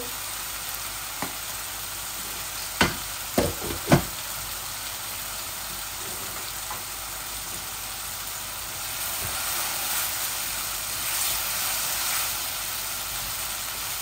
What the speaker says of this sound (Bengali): আমার পেঁয়াজগুলা আদা রসুনগুলা হাফ ভাজি হয়ে গেছে